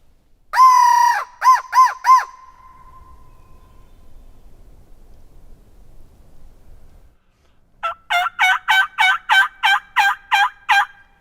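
Wild turkeys gobble in response to a call during spring scouting: one loud burst of rapid warbling gobbles, a quiet pause, then a long series of regular rhythmic gobbles, clear and alone with no talk.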